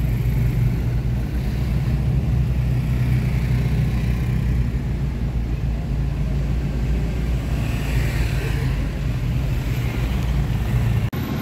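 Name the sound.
traffic with oncoming motorcycles in the other lane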